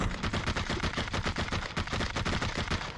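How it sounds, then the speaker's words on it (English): Rapid bursts of automatic gunfire in the battle royale game Population: One, a dense run of repeated shots firing steadily and fairly loud across the whole stretch, with no talk. "Who's shooting?"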